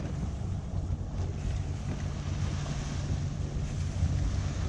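The Hallberg-Rassy 54 sailboat motors under engine power on the open ocean between Charleston and New York, a steady low drone mixed with rushing water and wind buffeting the microphone.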